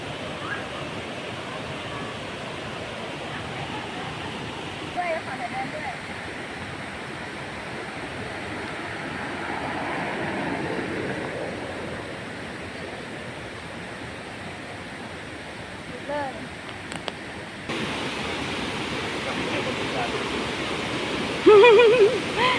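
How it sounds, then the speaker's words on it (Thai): Phlio waterfall in Chanthaburi, Thailand, roars as a steady broad wash of falling water, full in the rainy season, constant and close with a few faint sounds on top. "ได้ยินเสียงน้ำตกไหมคะ"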